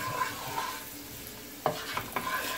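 Curry shrimp being stirred in a frying pan, Jamaican style with pineapple: a soft, steady sizzle with a few distinct scraping strokes of the spoon near the end, fairly quiet and close, with no talking.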